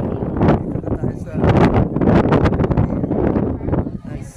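Strong wind gusts at a viewpoint buffet the microphone in heavy, surging waves of rumble, loud and close, with brief talking mixed in.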